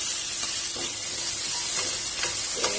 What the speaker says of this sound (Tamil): நல்லா எண்ணெயில வதக்கி விடுங்க.